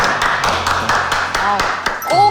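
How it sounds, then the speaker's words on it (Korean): A handful of people clap in steady, even beats in a Korean political talk-show studio, the applause close and moderately loud, with a voice speaking near the end. "박수 한번 칠까요?"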